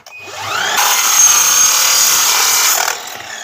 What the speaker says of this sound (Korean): 45도로 했을 때 자, 절반을 자를게요